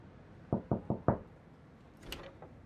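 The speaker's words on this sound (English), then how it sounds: "I remember knocking on the front door" Knocking on a front door: four firm, evenly spaced raps close by, followed by a softer rustling scrape.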